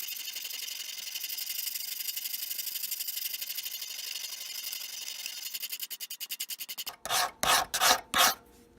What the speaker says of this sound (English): I'm going to take some time to use a smoother file and clean it up